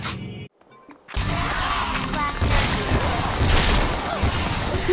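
Sustained gunfire erupts in Lollipop Chainsaw after a brief silence, a dense, loud barrage of rapid shots and impacts that continues without letup.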